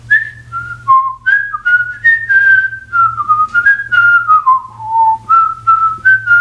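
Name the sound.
whistling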